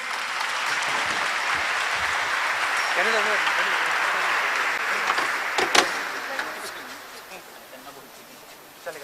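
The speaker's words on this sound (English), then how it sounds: "Can we have one more round of applause for them, please?" An audience at a Ring the Bell ceremony for World Investor Week 2023 claps after a spirited stage performance, a dense, close wash of applause that holds steady, then thins and fades toward the end.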